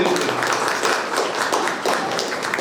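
Applause from an audience at a Lions Club guest event in Mannargudi, a dense, steady spatter of clapping filling the whole stretch at moderate loudness without a break.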